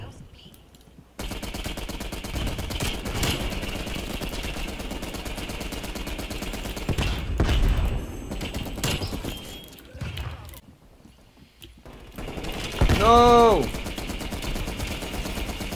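Call of Duty gunfire, sustained automatic bursts rattling loudly through most of the stretch with short pauses, a player's voice speaking over the shooting.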